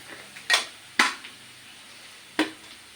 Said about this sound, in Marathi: मस्त ते भाजून घ्यायचं.